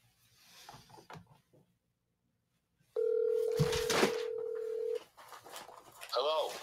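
Telephone dial tone and dialing on a phone line while placing a call, a steady held tone for about two seconds with keypad sounds, between stretches of people talking on a call-in show.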